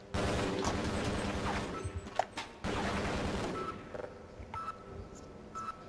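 Rapid assault rifle fire in the video game Half-Life, loud and dense bursts filling most of the stretch with a brief gap midway, then tapering to scattered lighter shots and clicks toward the end.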